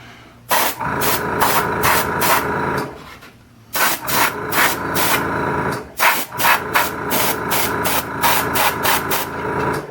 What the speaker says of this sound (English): I'm just kind of laying a light mist again, just to kind of give an initial cover.